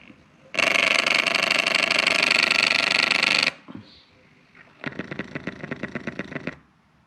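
On a 1UZ engine, an ECU-driven idle air control stepper motor resets, giving a steady loud buzzing whir for about three seconds, a few small clicks, then a second rapid ticking buzz, close up with no talk.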